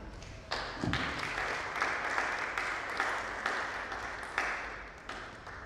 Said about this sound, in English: I'd like to ask you all to please clap for her